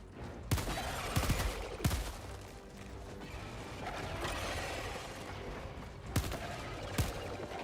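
Video game gunfire from a sidearm: a handful of sharp, loud shots spaced irregularly across the span, some in quick pairs, over a dense background of game noise.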